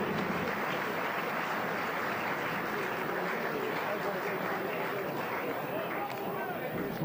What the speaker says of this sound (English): Former Grasshopper man gets a round of applause from his new supporters.